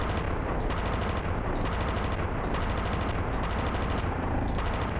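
Helicopter guns firing, with the rounds ricocheting off the ground: loud, dense continuous gunfire with sharper bursts repeating roughly every second over a steady roar, and no talking.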